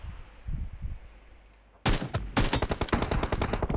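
Rapid bursts of automatic gunfire from the PUBG Mobile battle royale game, a distant muffled shot or two followed by loud, close, sustained rattling volleys with short pauses.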